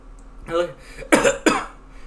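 A person gives two short, sharp coughs close together in a quiet space, after a softer breathy throat sound.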